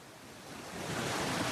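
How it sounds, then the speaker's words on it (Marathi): Water flows steadily outdoors in the Konkan countryside, a soft, continuous rushing wash that swells slightly louder toward the end, with no voices. "पाण्याचा आवाज येतोय"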